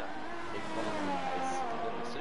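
A Formula 1 car engine from a racing video game howls at steady high revs on the Australian circuit during qualifying, a continuous droning whine under commentary, with a faint high whistle near the end.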